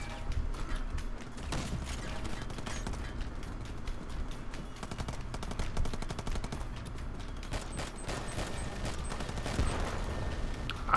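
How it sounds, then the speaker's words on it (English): Minigun firing in the video game R.I.P.D. The Game, rapid continuous bursts of gunfire crackling throughout amid other game noise, no speech over it. "I hear a minigun."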